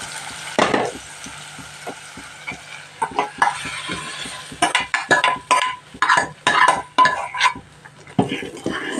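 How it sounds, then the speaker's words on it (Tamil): Onions and tomatoes sautéing in a pan for Tamil-style paruppu dal, a steady soft sizzle under repeated scraping and stirring strokes of a spoon against the pan, close and busy, with no talk. "அதை போட்டுட்டு கொஞ்சம் நேரம் நம்ம நல்லா வதக்கி விடலாம்"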